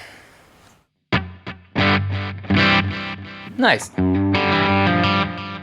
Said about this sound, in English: Next is the digital delay